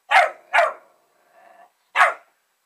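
A dog barks at its own reflection in a mirror, giving two sharp close barks, a soft whine, then a third bark after a short pause, loud and alone.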